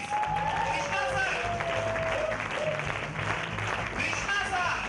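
An audience claps steadily to welcome a guest onto the stage at an event. Whistles and cheers rise above the clapping, and a voice can be heard over it throughout.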